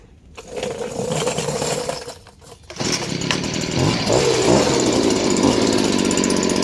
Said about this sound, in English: Now you notice that I was able to crank it warm.